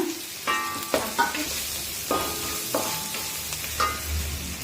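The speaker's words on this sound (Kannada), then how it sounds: "ಈರುಳ್ಳಿ ಫ್ರೈ ಆಗ್ತಾ ಇದೆ, ತುಂಬ ಏನು ಫ್ರೈ ಆಗೋದು ಬೇಡ, ಫ್ರೈ ಆಗ್ತಾ ಇದೆ." Onions fry in a pan for a kasi soppu greens stir-fry, with a steady close sizzle and repeated scraping strokes of a spoon stirring them.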